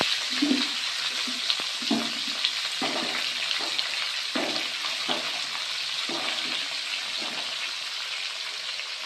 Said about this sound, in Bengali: কড়াই তেল আছে, এই তেলে আমি ফুলকপি ভেজে নেব আগে।